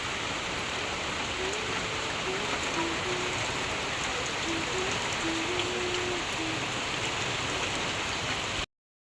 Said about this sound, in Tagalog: Lakas po ang ulan ngayon.